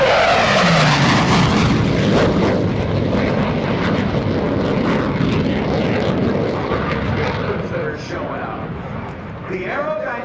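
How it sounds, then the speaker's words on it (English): An F/A-18C Hornet jet making a high-speed pass at an airshow, a loud roaring jet rush that sweeps past and slowly fades, with an announcer talking over it. "But here he comes from the right to show off that high speed again."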